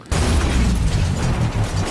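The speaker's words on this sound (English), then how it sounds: "That explosion had no impact on impact." Movie explosion sound effect from an action film, a sudden heavy booming blast that stays loud and rumbling for about two seconds.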